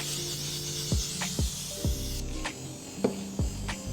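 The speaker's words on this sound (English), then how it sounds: "You cannot breathe with that spray." Makeup spray spritzes in a series of short, sharp bursts, roughly six in four seconds, heard close over a steady background hiss.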